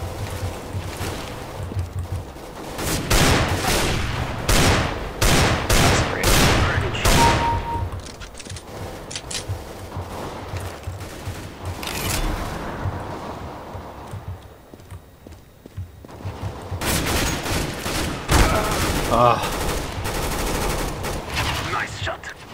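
Bursts of rapid gunfire from a first-person shooter game, loud volleys and single shots recurring in clusters with brief quieter gaps, with players talking at times.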